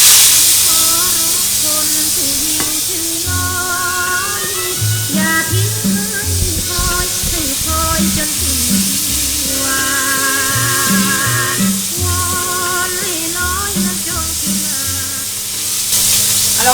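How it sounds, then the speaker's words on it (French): Chicken satay skewers sizzling in a very hot oiled pan, a steady loud hiss and crackle throughout, with faint background music underneath. "Et lorsque la poêle est très très chaude, ajoutez alors vos brochettes."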